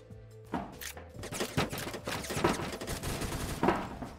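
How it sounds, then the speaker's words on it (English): Rapid bursts of gunfire in the Roblox shooter Phantom Forces, repeated volleys and sharp shots spread across the clip at moderate loudness, with a few louder close reports standing out. "Someone's shooting at me!"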